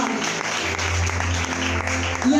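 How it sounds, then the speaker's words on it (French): Audience applause at a church conference plenary session, a steady dense wash of clapping hands throughout, fairly close and continuous, with a sustained organ or keyboard tone held underneath. "Est-ce qu'on peut acclamer pour elle?"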